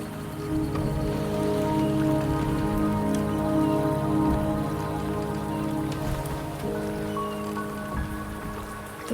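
Steady rain in the video game Wuthering Waves pattering on surfaces, a continuous dense wash of droplets with a low rumbling undertone, fairly loud and constant throughout.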